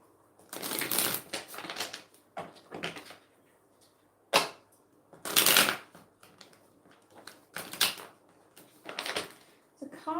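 Tarot cards shuffled by hand for a reading: repeated crisp riffling bursts, each lasting about half a second, with quieter taps and shuffling between them, close and clear, with no talk over them.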